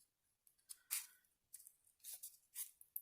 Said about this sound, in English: I'm just going to round off this corner here with a pair of scissors.